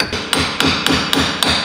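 Steady metallic hammer strikes fitting parts on a BMW E36, about five blows at an even rhythm, close and loud, with no talking.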